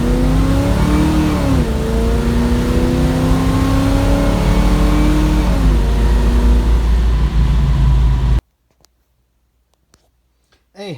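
Plymouth Duster engine revving up and down through a few throttle blips, loud and close with a rising and falling pitch, then cutting off abruptly into near silence with faint clicks.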